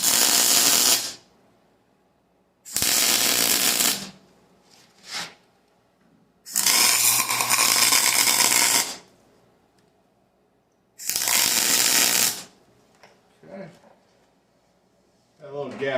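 Tack welding of a fuel cell mount on a 1949 Studebaker gasser, four loud bursts of harsh buzzing and crackling separated by quiet gaps and small clanks.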